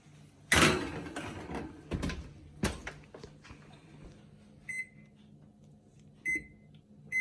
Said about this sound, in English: So this is the third pizza right now going into the oven.